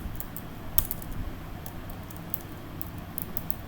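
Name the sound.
typing code on a computer keyboard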